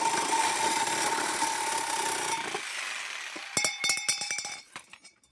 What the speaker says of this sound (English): So I'll get my Sawzall and make this first cut.